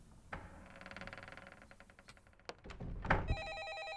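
An old-style telephone bell rings in a horror video game, a rapid metallic trill over a low hum, followed by clunks and a handset being lifted, then a steady electronic tone.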